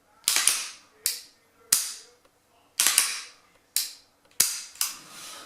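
Sharp metallic clacks from a Beretta 92 FS pistol as its slide is handled and run onto the frame, six crisp snaps spaced roughly half a second to a second apart, close and loud with nothing else heard.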